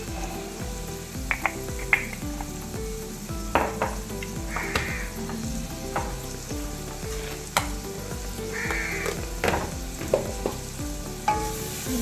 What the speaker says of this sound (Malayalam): ഇത് നന്നായിട്ട് വഴറ്റാം.